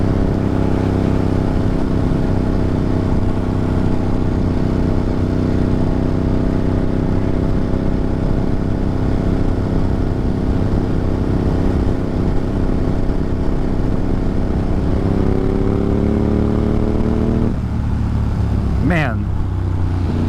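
A motorcycle rides twisty country roads near Walton on a hot summer day, its engine a loud, steady drone close by with constant wind rush and brief pitch changes near the end.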